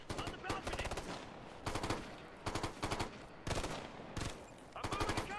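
Video game gunfire in Ghost Recon: Future Soldier, repeated bursts of rapid automatic fire in clusters with short gaps, loud and close, with traces of voices underneath.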